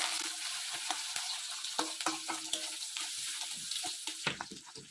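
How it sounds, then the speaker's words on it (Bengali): Green chilli frying in a pan with a close, crackling sizzle, repeated spatter pops and stirring scrapes at an uneven rhythm, with no voices. "এবার কাঁচা লঙ্কাটা এর মধ্যে দেওয়া হলো। এটাকে ভালোভাবে ভেজে নিতে হবে।"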